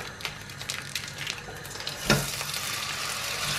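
Minced meat frying in a pan for a meal-kit recipe, a steady close sizzle with light stirring and scraping, one sharper clatter partway, and no talk.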